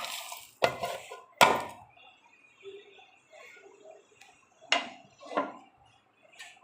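Roasted peanuts, cashews and dried fish tipped into a big metal pot, a few sharp close clattering rattles spaced apart with soft scraping and quiet pauses between them.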